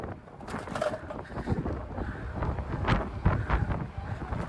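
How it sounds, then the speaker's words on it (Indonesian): Strong headwind buffets the microphone outdoors on a street in Japan, making continuous rough, gusty rumbling that swells and dips irregularly throughout. "Ini kita di arah berlawanan sama angin ya, makanya kenceng banget."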